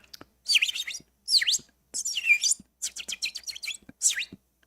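A bird sings nearby in loud, bright bursts of rapid chirps and whistled trills, separated by short silent pauses.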